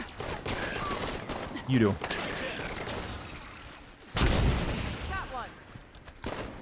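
Sniper rifle shots in Halo 5: Guardians, one sharp loud report near the start of the second half, with brief gunfire bursts earlier, under a steady game soundscape and casual talk.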